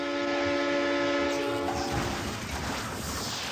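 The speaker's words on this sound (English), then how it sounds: "Look out for that train!" A loud, sustained train horn blares, then gives way to the roar of a passing train.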